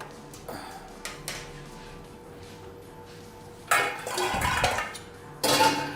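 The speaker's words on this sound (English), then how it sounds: "now this garlic is frying well. We're just gonna make sure I stir it" Garlic fries in a pan while a utensil scrapes and clinks against it, with sparse taps followed by two louder bursts of stirring and clatter over a faint background sizzle.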